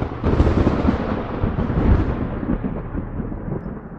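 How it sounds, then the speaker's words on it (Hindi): Storm thunder with wind, a loud deep rolling rumble that swells near the start and slowly fades over several seconds, with no voices. "तभी बिन मौसम बिजली चमकी और बादल गरजने के साथ हवाएं चलने लगी।"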